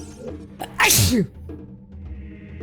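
A single loud sneeze bursts out around the middle, sharp and close, over a low steady background hum.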